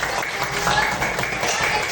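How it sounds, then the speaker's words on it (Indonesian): Children in a classroom clap together in a steady broadband patter that lasts the whole two seconds, a dense, close burst of applause with a faint murmur of voices mixed in. "Masya Allah, tepuk tangan kakak."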